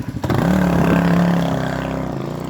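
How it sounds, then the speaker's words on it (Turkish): A motor engine runs loudly and close for a couple of seconds in an outdoor setting among friends filming bicycles, a steady droning hum with a slight rise and fall, heard alone without talk. "Motor sesi"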